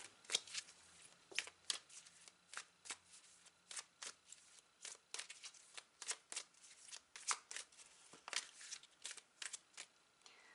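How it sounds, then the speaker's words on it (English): Oracle cards being shuffled by hand, a quick series of crisp riffling bursts repeating steadily, close and fairly quiet. "So I'm going to grab an oracle card to close out your reading."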